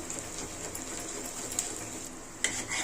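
Egg frying in oil in a pan with prawns, a soft steady sizzle with a couple of brief stirring clicks, close and fairly quiet, no voices.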